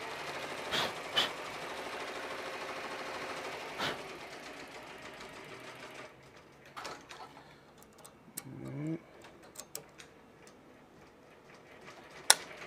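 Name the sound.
embroidery machine stitching hats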